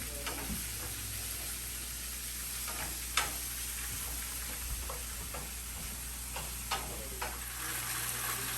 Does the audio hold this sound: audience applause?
no